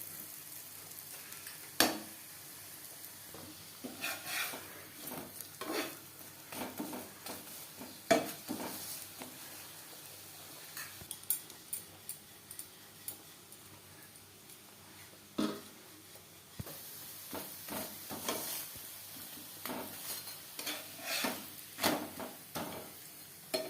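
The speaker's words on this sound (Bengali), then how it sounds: "ভাজা হয়ে গেলে অপর সাইডটা উল্টে দেবো" Spinach paratha frying in a pan after being flipped, with a soft continuous sizzle broken by many sharp clicks, taps and scrapes of a spatula at an irregular pace, close and with no talking.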